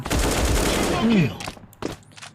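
AK47 fire in a first-person shooter video game: a dense burst of rapid automatic shots, then a few sparser separate shots, with a voice heard faintly in places.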